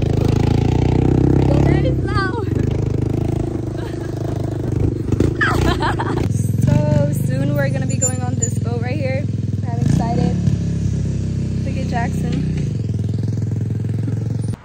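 A four-wheeler engine rumbles steadily with clattering and rattling as it approaches, while people talk over it.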